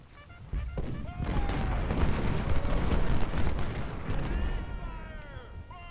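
Dense, continuous battle din from Ultimate General: Civil War: massed musket volleys and artillery booms roll together as steady, loud crackling gunfire, with faint voices briefly surfacing in the mix.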